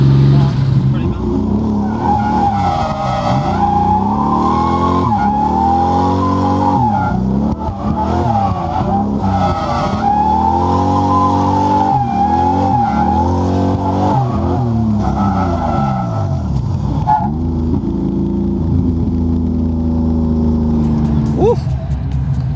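A BMW E36 drifts with sustained engine revving, howling exhaust and tire squeal throughout, loud and close, the engine rising and falling with throttle; people talk over it.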